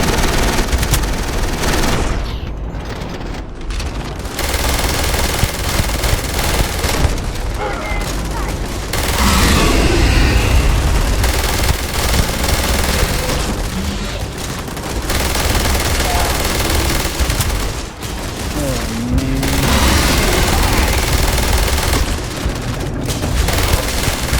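Rapid gunfire from a sci-fi space shooter, Starfield, fighting Terrormorph creatures: sustained bursts of automatic fire and booms run loud and continuous throughout, with a player's voice talking over the combat.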